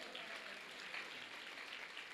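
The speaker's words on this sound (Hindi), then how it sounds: "एक बार संत वाणी चैनल के लिए भी तालियां बजाओ भाई।" An audience at an award ceremony applauding, a dense continuous wash of clapping, faint and distant, with no distinct voices.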